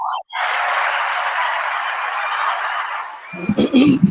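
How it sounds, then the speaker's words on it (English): Canned applause sound effect played on a call-in radio show, a dense wash of crowd clapping and cheering that fills most of the stretch, then fades as a voice and a laugh come in at the end. "go ahead and give it the applause again"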